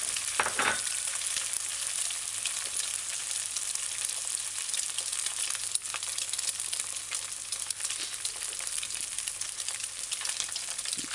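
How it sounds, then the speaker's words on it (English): Ham and egg fry in a pan on a medium-high stove for a Jamaican sandwich, a dense, even sizzling hiss that runs steadily throughout, close up, with an occasional faint tap or crackle. "I'm just gonna fry the second one."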